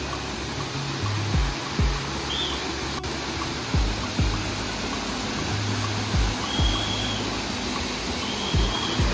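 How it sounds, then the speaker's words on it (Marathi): Waterfall in the Yeoor Hills near Thane, a steady broadband rush of falling water filling the whole clip, fairly close and constant, with a few low thumps over it and no talking. "भारी धबधबा आहे"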